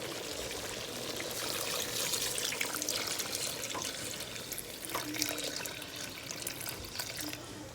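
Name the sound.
water being poured into curry goat pot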